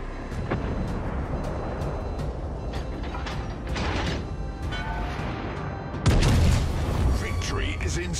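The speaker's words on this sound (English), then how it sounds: "All stations, concentrate fire on the target." Heavy booms and mechanical clanks of warship guns firing in World of Warships Legends, rumbling under a busy battle soundscape with a loud burst near the end and radio-style voice chatter.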